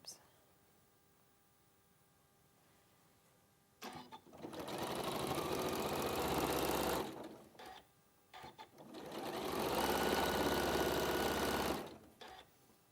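Sewing machine stitching quilt borders, two sustained bursts of steady whirring separated by a short pause, close and fairly loud, with a brief quiet lead-in.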